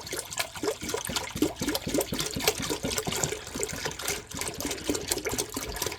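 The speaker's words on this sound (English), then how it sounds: "We're going to dump the entire gallon into this pot." A full gallon of whole milk pours into a pot for homemade mozzarella, a steady, close gurgling stream with a rapid pulsing glug that runs unbroken for several seconds and has no voices over it.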